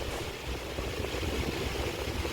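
A motorcycle engine idles in a battle royale video game, a steady mid-low engine hum that sits fairly quiet and continuous.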